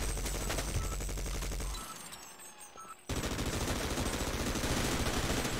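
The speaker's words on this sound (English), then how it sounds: "Alright, machine gun. Mini turret, whatever your name is." In Sven Co-op, a mini machine-gun turret fires a dense, loud rattling burst, stops briefly for about a second, then resumes sustained rapid fire to the end.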